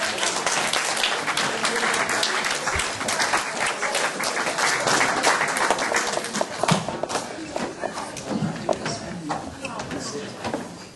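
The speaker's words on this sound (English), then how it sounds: "let's give them a really big round of applause." Sustained applause and cheering from a crowd at an outdoor carnival queen presentation, steady dense clapping filling the whole stretch with some scattered shouts and voices mixed in.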